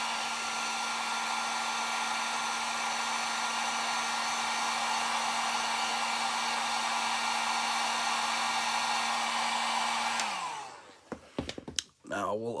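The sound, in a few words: hair dryer heating super glue on a toy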